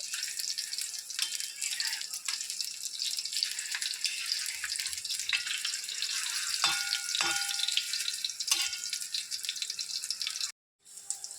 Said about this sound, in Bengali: কাবাবগুলো ভেজে নেব